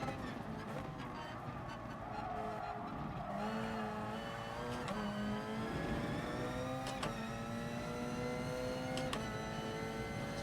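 A race car engine in the racing game GT Sport, driven in FIA Nations testing, revs and climbs through the gears in repeated rising sweeps, with gear-change breaks and a squeal of tyres, loud and continuous.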